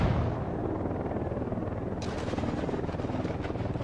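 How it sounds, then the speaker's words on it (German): A helicopter in the video game Ghost Recon Wildlands thumps loudly and steadily with rapid rhythmic rotor beats, joined midway by sharp bursts of gunfire over the continuous drone. "Ich höre einen Heli."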